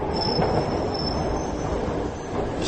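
An underground train on a London line rumbles along its rails, loud and close, with a high steady wheel squeal running over the roar.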